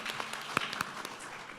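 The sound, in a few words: audience clapping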